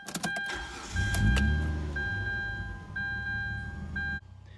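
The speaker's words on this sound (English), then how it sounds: "The first step is to start the car." A car engine turns over and settles into a steady idle, loud and close, with a low rumbling hum running throughout until it drops off near the end.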